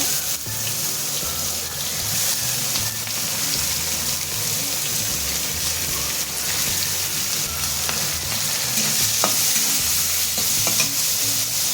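Large onions frying with a tempering in a pan for a rajma curry, a steady loud sizzle with stirring scrapes throughout, no voices.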